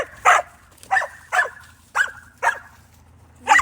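A dog barks repeatedly at close range: six sharp, evenly spaced barks over a few seconds, clear and alone with no talking.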